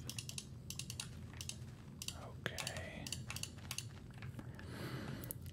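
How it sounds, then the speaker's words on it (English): Rapid mouse and keyboard clicking during Minecraft gameplay, crisp bursts of taps in quick clusters close to the mic, with a brief spoken word partway through. "Sorry about the intense clicking sounds."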